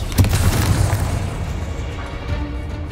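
A Bombarda spell explosion in Hogwarts Legacy on PC: a loud low boom at the start, then a rumbling, crackling tail that fades out over a few seconds.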